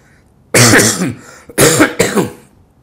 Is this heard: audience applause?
no